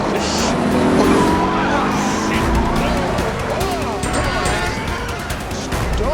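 Loud, continuous car action from the 1994 film Speed: a roaring engine, a skidding tyre screech and chaotic crash-like clatter filling the whole stretch, with no clear speech.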